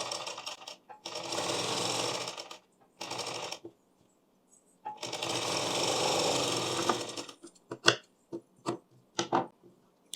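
A sewing machine stitches a blouse in two long runs of steady whirring with a pause between them, then stops. Short clicks and handling knocks follow.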